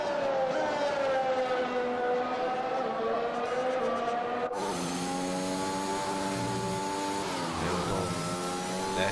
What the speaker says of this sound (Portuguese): Muito estranho esse barulho aí no motor do Hamilton.